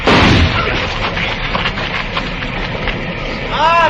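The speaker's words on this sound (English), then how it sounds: "I'm going to flip a shot at the tree, Chester. Roll away as soon as I fire" A gunshot fired at a tree in a Western-style film: a loud crack at the start, followed by rustling, scuffling movement and distant clatter, with a high ringing whine near the end.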